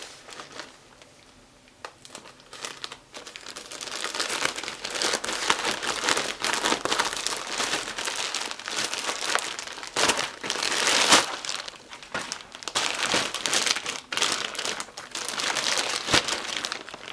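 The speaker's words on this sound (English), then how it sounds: "Giant Ziploc." A giant plastic Ziploc bag is crinkled and handled during the unboxing of a shoulder bag, giving loud, continuous crackling and rustling close by, with brief pauses and bursts, and no voices.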